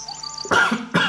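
A person coughs twice in quick succession, close and loud, following a brief soft throat sound.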